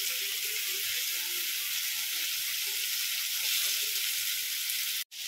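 Pomfret fish frying in a pan with a steady, loud hiss and crackle of hot oil that runs continuously and cuts off abruptly near the end.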